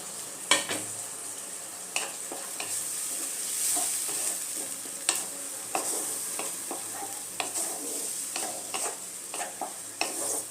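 Tomato with turmeric and Kashmiri chilli powder frying in a pan for a cauliflower roast, a soft steady sizzle punctuated by regular scrapes and clinks of a spatula stirring against the metal, close by.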